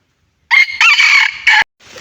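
A wild red junglefowl rooster crows once on a mountainside, loud and near: a sharp, broken cock-a-doodle call in several strained segments, followed by a faint trailing sound.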